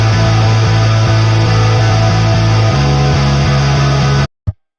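Rock guitars from a production mix of a song ring out with bass guitar added underneath, a loud full band wash with low notes shifting partway through before stopping sharply.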